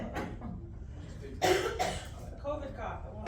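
A COVID cough at a school board meeting: a couple of harsh, close coughs burst out in quick succession over low room murmur, with people talking faintly around them.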